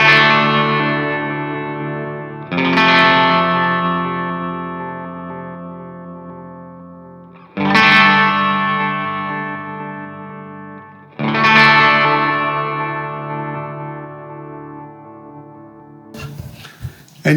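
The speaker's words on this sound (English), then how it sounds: "you're hearing a lot more movement there because you've got the pan, the filter, which is EQ, and the granular burst" A Polyend Mess stereo multi-effect running pan, filter EQ and granular burst over four sustained chords, each swelling and decaying with shifting movement, then a brief glitchy burst at the end.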